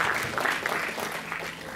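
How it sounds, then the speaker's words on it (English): A lecture audience claps at a university luncheon talk, a short burst of dense, even applause with no voices on top. "I believe an applause, isn't there?"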